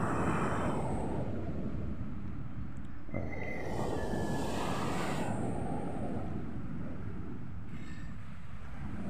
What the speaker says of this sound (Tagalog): Bigla pong tumaas po ang tubig dito sa dagat.